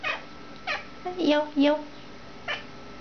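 A cat meows several times in short, rising calls, close and clear, with brief pauses between them.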